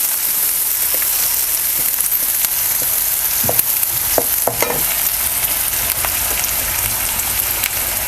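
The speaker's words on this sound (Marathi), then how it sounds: "आपण ह्यामध्ये घालूया बारीक चिरलेला कांदा कांदा आहे ना थोडंसं लालसर होतपर्यंत आपण हे परतून घेऊया" Finely chopped onion frying in a pan until reddish, with a loud, dense, continuous sizzle close by and a spatula occasionally tapping and scraping through it. No one talks.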